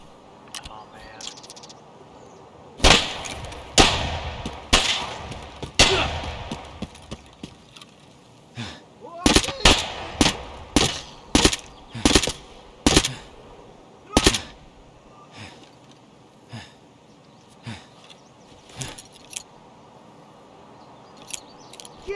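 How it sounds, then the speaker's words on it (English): Gunfire from many enemies in Escape From Tarkov, sharp loud shots arriving in scattered single cracks and short clusters against a quiet background, with occasional brief speech. "Wow, there's lots of them shooting."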